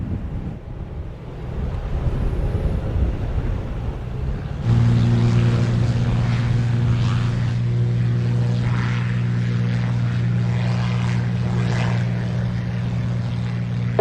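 Close to the runway at Montego Bay airport in Jamaica, an airliner spools up for takeoff, its engine roar swelling abruptly into a loud, sustained drone with steady tonal hum, mixed with wind buffeting the microphone.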